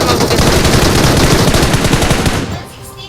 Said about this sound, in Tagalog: Gagi, binabaril tayo.